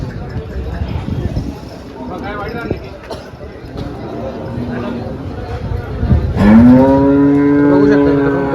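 HF and Jersey cows at a cattle market in Dhule, with murmuring crowd noise and voices throughout, then a loud, long, close moo rising out of the chatter near the end.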